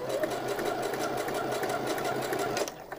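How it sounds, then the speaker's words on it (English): A sewing machine runs steadily while stitching a button onto a men's shirt, a fast, even mechanical whir that stops abruptly near the end. "it has sewn my button on"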